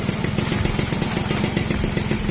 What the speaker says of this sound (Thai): เนี่ยสตาร์ทติดแล้วนะครับ ติดง่ายนะครับ